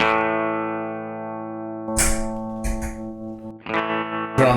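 An electric guitar played through a Mooer preamp with tremolo modulation, sustained chords ringing and pulsing, then broken by choppy strummed hits, with no talking.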